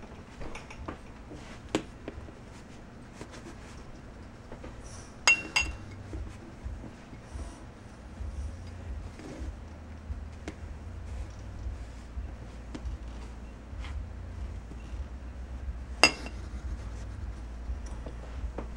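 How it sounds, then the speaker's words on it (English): A pet hedgehog's bowls are set back into its cage, giving a few sparse, light clinks of dishware spread over a quiet room hum, with one sharper knock near the end. "And then his bowls get put back in as well."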